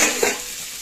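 Fish and ground spices fry in a pan with a steady, close sizzle and a quick stir-scrape near the start, short and fairly loud.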